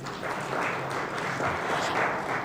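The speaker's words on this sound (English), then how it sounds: "Huge round of applause to yourselves, please." Audience applause fills an education conclave hall, a steady, dense wash of many hands clapping that holds evenly throughout with no pauses.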